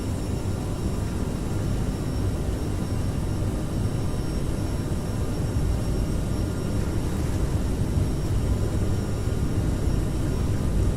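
Aerosoft CRJ700 jet engines at takeoff power in Microsoft Flight Simulator, a steady loud roar of broadband engine and rushing-air noise holding constant throughout with no speech.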